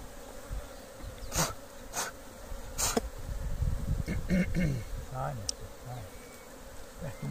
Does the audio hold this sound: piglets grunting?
no